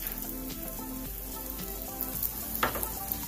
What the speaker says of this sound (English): we're just sauteing it, pan frying it, whatever you want to call it, right here in a cast iron skillet